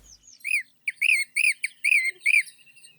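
A white-tailed lapwing gives a rapid series of about six or seven sharp, squeaky nasal calls, each a quick rising-falling note, close and clear against silence.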